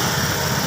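A car engine runs steadily, a continuous buzzing drone with a rough low rumble, close and loud for a brief moment.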